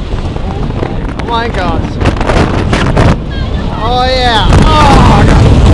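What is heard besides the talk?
strong wind on an amusement park ride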